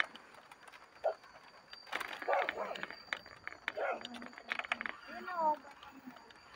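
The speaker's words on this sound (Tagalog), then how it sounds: "may aso pa" A dog barks a few short, scattered times outdoors at night at moderate distance, mixed with people talking and faint bird-like calls.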